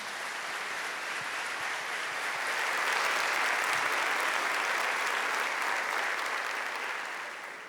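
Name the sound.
applause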